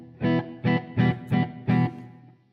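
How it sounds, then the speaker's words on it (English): An electric guitar plays through a Nembrini Range 120 amp simulator app with a large reverb, sounding five distorted chord stabs in a steady rhythm that ring into a reverb tail and then fade out. "It's a nice big reverb in there as well."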